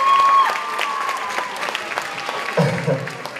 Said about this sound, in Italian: Facciamo un applauso a Mena Di Maso per questa sera.